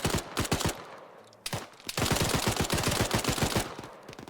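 Rapid automatic gunfire in Arma 3, loud and close, in two long sustained bursts broken by a short pause, with crackling impacts throughout.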